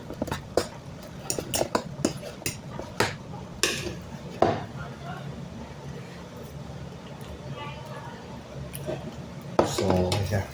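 Metal utensils clatter and scrape against a pan while pansit noodles are mixed, with sharp irregular clinks throughout and a louder cluster near the end, indoors with faint voices in the background.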